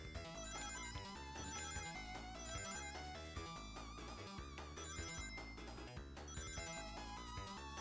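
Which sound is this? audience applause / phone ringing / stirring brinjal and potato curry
phone ringing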